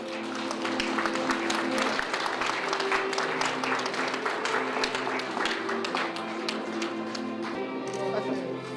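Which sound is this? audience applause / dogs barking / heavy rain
audience applause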